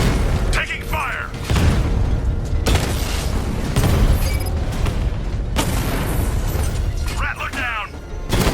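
Heavy gunfire and booming blasts roll through a Batman: Arkham Knight battle, with sharp cracks and rumbling impacts layered under urgent voices.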